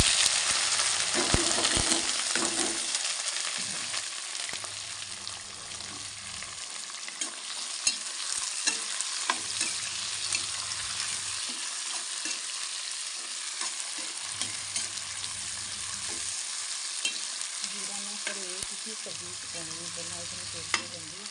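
Cumin seeds frying with sliced onion in a pan for a vegetable dish, a steady broadband sizzle with intermittent stirring scrapes and a low hum returning at regular intervals, close and alone without talk.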